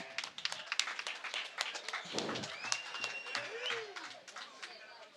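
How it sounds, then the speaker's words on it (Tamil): An outdoor village crowd at a statue unveiling in Pillaiyarpatti claps in a loose, scattered patter from mid-distance, the claps mixed with voices and a few stray tonal sounds. "கைதட்டுங்க."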